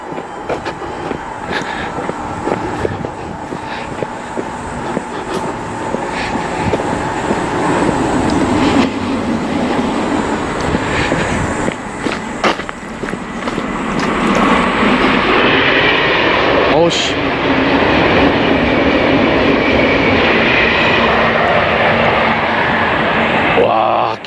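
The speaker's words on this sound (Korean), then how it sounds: "와, 기차 소음 대단한데." A loud train rumbles past close by, its roar building and staying heavy, with a steady rushing noise throughout.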